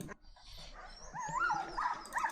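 A reactive dog spots another dog far off and whines and whimpers in rising, high-pitched cries, fairly close and growing more insistent.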